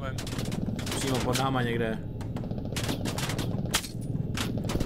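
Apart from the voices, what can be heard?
gunfire in video game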